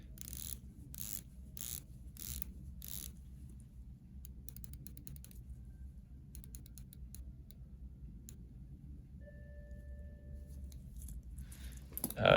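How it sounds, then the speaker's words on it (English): Seiko dive watch bezels, an SPB185 in the MM200 case and an SPB151 Turtle, being rotated, giving bursts of fine ratcheting clicks at first, then sparser ticking runs, close and fairly quiet. "Let's just do bezel action on all of these."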